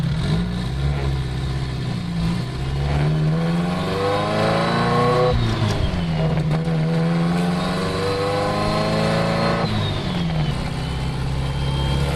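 A high-powered tuned, boosted car runs steadily with its engine revving up and down in repeated sweeps, loud and close throughout with no talk.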